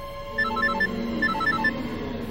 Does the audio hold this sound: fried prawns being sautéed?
no